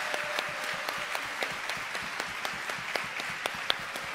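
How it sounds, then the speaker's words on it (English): Steady crowd applause for a county mayor at a business breakfast, a dense patter of claps with a few sharper individual claps, moderately distant and even throughout, no talk. "Let's give him a round of applause."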